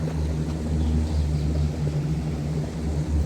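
An airplane drones overhead in the hills near Valparai, a steady low hum of engine tones holding level throughout, moderately loud with no voices present.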